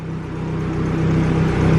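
Turbocharged EF Honda Civic engine under boost, heard from inside the car as a loud steady drone that swells gradually across a brief stretch, running lean.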